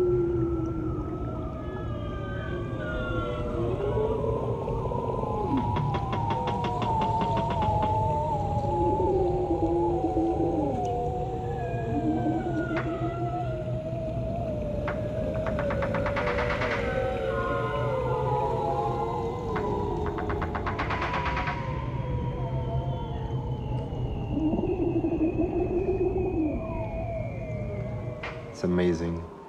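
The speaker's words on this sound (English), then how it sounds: "Most of what you're hearing is the bearded seal, known as the udjuk, those long descending whistles and also the long ascending whistles." Arctic bearded seals recorded underwater by hydrophone give long descending and ascending whistles, repeated and overlapping over a constant low underwater rumble, fairly loud throughout.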